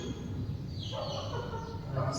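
A bird, presented as a chicken, clucks and gobbles close by near a lecture hall in a tribal area, a steady fowl chatter running under the talk of a lecturer.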